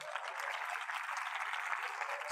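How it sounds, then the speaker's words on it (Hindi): An audience at a one-day revival meeting claps steadily for a couple of seconds, a soft, even patter of many hands heard from a short distance. "तालियां तो बजा दो"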